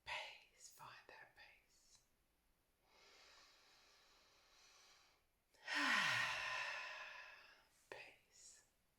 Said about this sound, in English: So big deep breath in.